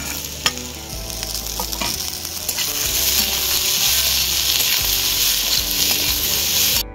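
Green peas with cumin and coriander powder fry in a pan for vegetable chop, a loud continuous bright sizzle with a few light clicks and scrapes throughout.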